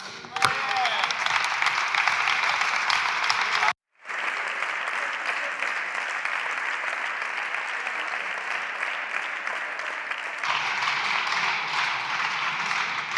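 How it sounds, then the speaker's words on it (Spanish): Loud, sustained applause in a plenary session of the Spanish Congress of Deputies, vigorous dense clapping from the chamber that cuts off briefly, resumes strongly, and continues steadily throughout. "por mucho que aplauden y con mucha fuerza"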